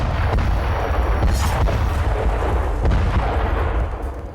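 An airstrike explosion levels a building, a heavy booming blast with rolling rumble and sharp bursts that sustain loudly before tapering off near the end.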